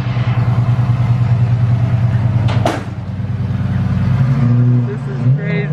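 A supercar engine runs loud and close with a deep steady rumble, dips briefly and then revs back up, with a few sharp clicks and some voices over it.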